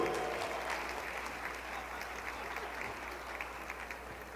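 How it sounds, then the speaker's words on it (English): Sustained applause from an audience at a 2019 MLK program as a speaker named Roger makes his way to the stage, a steady, fairly faint wash of clapping that continues evenly throughout. "Keep clapping until he's up on stage."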